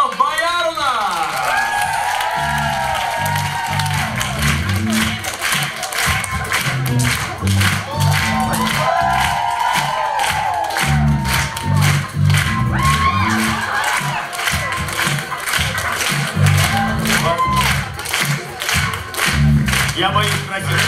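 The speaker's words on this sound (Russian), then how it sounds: "Встречаем под бурные аплодисменты" A studio audience on a karaoke show claps and cheers steadily for a team coming on stage, with dense applause throughout and a loud voice speaking over it.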